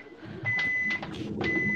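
An appliance in the background gives two steady electronic beeps, each lasting about half a second, separated by a short gap and heard over low room noise.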